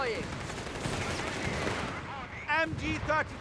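A German MG34 machine gun fires in the Company of Heroes 3 battle game, bursts of distant gunfire under a busy battlefield din, followed by a voice speaking briefly near the end.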